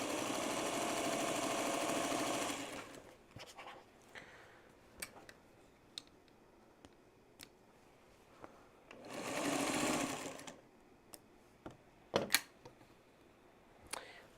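A sewing machine stitches quilt blocks in two steady bursts of whirring, one at the start and another near the middle, with quiet clicks and handling noises in between.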